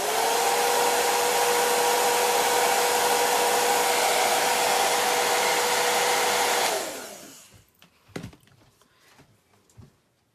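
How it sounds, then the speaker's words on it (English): A hair dryer blows steadily at close range with a loud, constant whir, then switches off and winds down, leaving a few faint clicks and handling sounds. "I'm going to hit this with a hairdryer"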